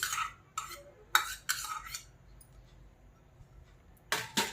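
Yogurt is spooned into a large bowl for a simple tea-time cake batter: a handful of short scrapes and light utensil clinks against the bowl, close by, separated by quiet pauses.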